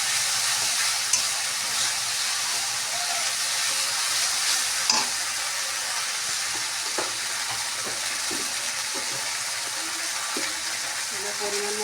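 Tangra fish curry with turmeric sautéing in a pan, a constant frying hiss with irregular spatula scrapes and knocks against the pan. Two sharper clacks stand out, and no voice is heard.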